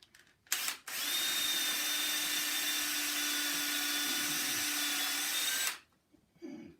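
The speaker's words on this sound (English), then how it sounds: "Again, you want to drill the pilot hole so you don't split." A power drill runs steadily for about five seconds, a loud continuous whine boring a pilot hole into wood, with brief handling clicks before and after.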